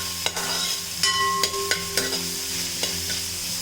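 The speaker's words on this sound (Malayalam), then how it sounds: "അതും കൂടി ഇട്ട് ഇളക്കി കൊടുക്കാം." Crushed, skin-on garlic is stirred into sliced onions frying in a pan, giving a continuous close sizzle with several sharp scrapes and clanks of the spoon against the metal.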